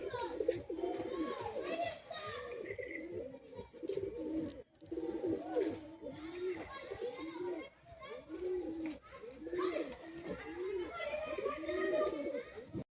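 Caged pigeons at a sale, cooing and fluttering close by as they are let out, with children and adults talking loudly over the birds throughout.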